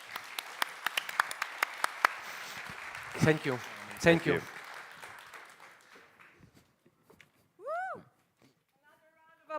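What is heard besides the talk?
audience applause for speaker Anton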